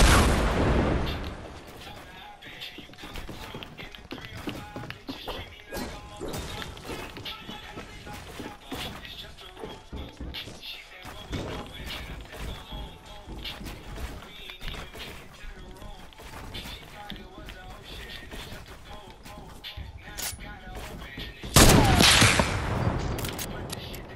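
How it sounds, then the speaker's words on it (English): Rapid gunfire and weapon blasts from an RPG rocket launcher in the video game Fortnite roll on steadily, capped by a loud, sharp burst near the end, with a voice talking over the action. "It's an RPG."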